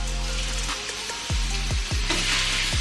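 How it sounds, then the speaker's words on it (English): Food sizzling loudly in a skillet, a steady close hiss of frying with a few soft knocks and stirring sounds during meal prep, no voices. "Let that baby sizzle up a bit."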